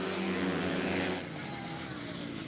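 Supermoto race motorcycles brake hard into the bottom hairpin at the Sestriere round, engines roaring loudly nearby and then dropping away abruptly to a lower, more distant drone.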